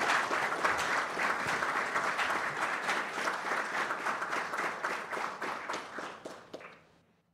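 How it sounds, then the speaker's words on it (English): Audience applause at a county board meeting, steady and moderately loud with distinct individual claps, gradually thinning and fading out at the end. "Let's give her a round of applause"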